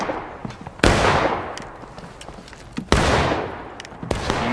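Musket volleys crack out in the Civil War game War of Rights, two big bursts with scattered single shots between, loud and close with long echoing decay across a battlefield.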